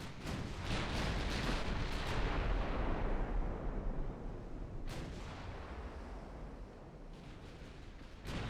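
Naval guns firing salvos at a battleship in the Ultimate Admiral Dreadnoughts naval warfare game: heavy, loud, rolling booms in overlapping waves, with fresh blasts near the start, around the middle and again toward the end.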